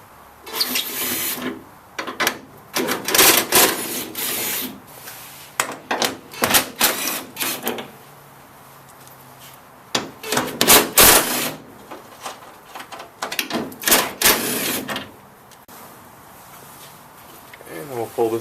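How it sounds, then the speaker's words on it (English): Ten 10 mm bolts being removed from a Toyota Tundra grill surround, heard as bursts of rapid ratcheting clicks from a hand tool, close and repeated with pauses between bolts. "There are 10 of these 10 millimeter bolts that we need to remove to get this off."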